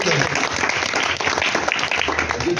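An audience bursts into dense, sustained applause at a teacher's retirement ceremony, clapping filling the room continuously, with some voices mixed in under the clapping.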